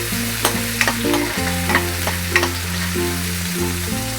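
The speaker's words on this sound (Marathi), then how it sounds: "ही अद्रक, लसूण, कोथिंबीर, मिरचीची पेस्ट आहे ती टाकले. थोडी तेलामध्ये चांगली परतून घेऊया" Ginger, garlic, coriander and chili paste sizzles and fries in hot oil while being stirred, with steady close sizzling, scraping strokes and soft background music and no speech.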